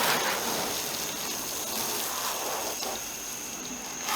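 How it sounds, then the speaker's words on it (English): Steady broadband spray of water hissing continuously as a hose rinses a car, close and fairly loud with no pauses. "It's a very rain-like rinse."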